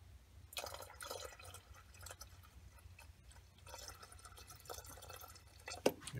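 Distilled water is poured into a container of paint mixed with Floetrol, giving a faint, close, uneven trickle and splash with small drips and a glassy clink near the end.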